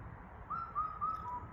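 A black-backed cuckoo's whistled call, four clear repeated notes in a steady rhythm over low background rumble, fairly distant.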